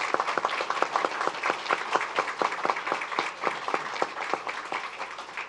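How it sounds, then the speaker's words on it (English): Steady audience applause at an event honoring educators, with many hands clapping in dense, sustained rhythm, heard from a moderate distance in a large room. "I think that deserves a round of applause."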